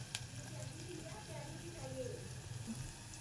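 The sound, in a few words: onions frying in a little oil for pizza sauce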